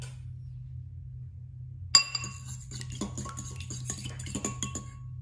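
Utensil clinking and scraping in a bowl as apple fritter batter with vanilla is mixed, a quick irregular run of close, bright taps over a low steady hum, with no talking.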